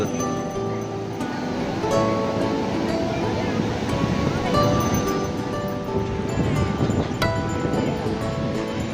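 Sea waves washing onto a beach in the evening, a broad continuous surf rush mixed with crowd murmur and distant voices, fairly loud and steady.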